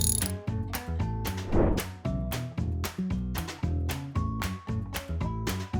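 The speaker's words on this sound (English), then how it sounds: "Once under pressure, finalize the tightening of the screws using a torque wrench." A ratcheting wrench clicks rapidly in quick, repeated pulls while tightening the rear shock absorber screws on a Mini mk3, close and distinct with short pauses between strokes, no voices.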